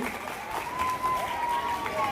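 Crowd applause fills the hall at a Prajapati youth association student award ceremony in Anand, a steady wash of clapping with a voice or tone carrying over it.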